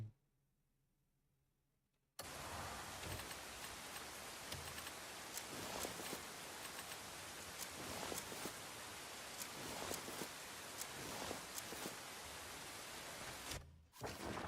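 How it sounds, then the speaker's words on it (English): Steady, dense rain pours in the video game Crimson Desert, a loud hiss of drops on surfaces that starts abruptly after a quiet moment and holds evenly, with a short dip near the end. "It's raining."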